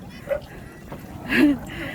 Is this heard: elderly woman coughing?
no